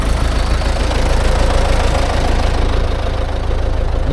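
A tractor engine runs close by in a field during fertilizing and harrowing for corn, with a loud, steady, rough rumble and no break in the noise.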